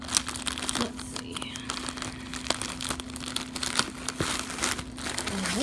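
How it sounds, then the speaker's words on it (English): A sticky happy-mail package of reborn doll items is torn open by hand, giving loud crinkling and crackling of plastic or paper with sharp rips and rustles close up, and no talking. "Okay, well, I try to rip this open."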